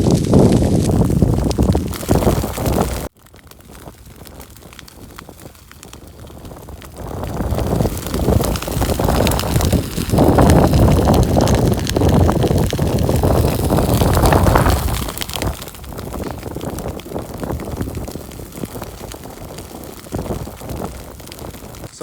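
Strong wind blows during a wildfire in Croatia, heavy gusty buffeting against the microphone with loud roaring surges, one abrupt drop, then renewed rushing.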